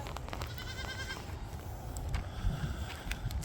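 Goats bleating on a farm: a couple of short, wavering bleats early on over a steady low rumble of background noise, with no talking.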